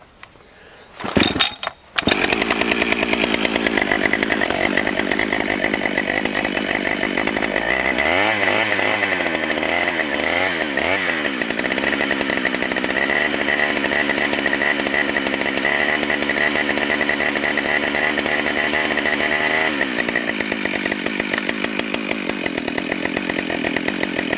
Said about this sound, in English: When you're firing up your saw cold, keep in mind that piston is aluminum